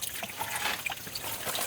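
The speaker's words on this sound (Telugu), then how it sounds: "ఈ లోపల నుంచి ఇలా నీళ్ళు పడుతుంది." Water trickles and drips down from inside a hillside stream channel where crabs are caught, a soft, steady dribble heard alone at low level without any talk.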